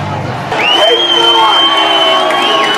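A crowd of protesters and counter-protesters in Ireland shouts, cheers and whoops together at close range, with a shrill whistle-like tone rising above the roar.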